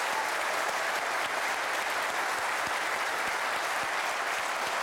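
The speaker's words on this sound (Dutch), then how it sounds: "Nog één keer een applaus." A studio audience on a Dutch television talk show claps steadily, a dense, even wash of applause that stays at full strength throughout, close and filling the room, with no voices standing out.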